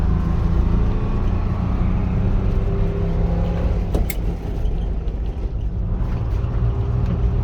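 A 1948 GMC PD3751 coach with a non-synchro transmission drives along, its engine a loud, close, steady low rumble with road noise, and a brief click near the middle.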